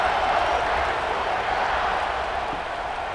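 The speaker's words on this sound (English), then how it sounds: "this crowd is buzzing after that last score" A steady, dense crowd roar fills a virtual football stadium in College Football 26 after a touchdown, a continuous wash of noise holding at an even level with no individual voices standing out.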